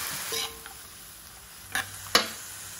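Miki gisado noodles with carrots are stirred in a sizzling pan, with a soft frying hiss and two sharp utensil scrapes against the pan near the end.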